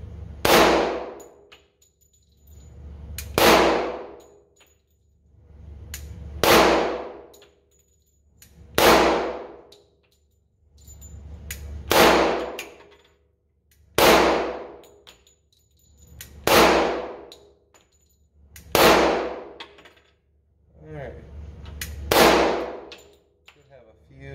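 An FK BRNO PSC pistol fires a steady string of shots, each round ringing off a steel target with a sharp metallic clang and a fading ring, spaced about two seconds apart, with no talk.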